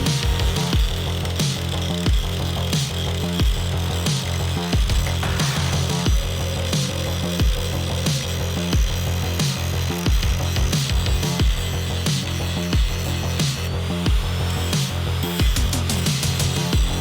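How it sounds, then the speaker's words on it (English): An angle grinder cuts and grinds excess steel from a karambit blank, producing a continuous loud, dense whine with steady rhythmic pulsing throughout, close and with no talk. "Then I worked with an angle grinder, cutting and grinding the steel in excess to get close to the external lines of the drawing."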